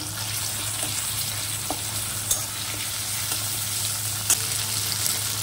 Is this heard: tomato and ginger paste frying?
yes